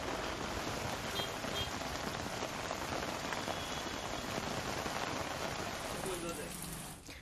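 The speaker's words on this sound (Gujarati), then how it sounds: "શહેરના અનેક વિસ્તારોમાં વરસાદ જોવા મળ્યો છે, ક્યાંક ધીમી ધારે તો ક્યાંક ધોધમાર વરસાદની એન્ટ્રી થઈ છે." Steady, dense rain falls during the monsoon in Surat, Gujarat, a continuous close wash of drops hitting surfaces that holds even throughout and eases slightly at the very end.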